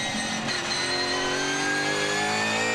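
A Supercars race car on a qualifying lap at The Bend, its engine holding a loud, steady high-revving drone with strong harmonics throughout, close and continuous with no talk.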